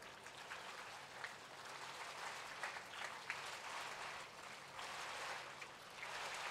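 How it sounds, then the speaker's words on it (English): A large school crowd at a decadal celebration claps together, a faint, dense, continuous patter spread through a big space with no distinct individual claps and no voices. "Our clap of happiness."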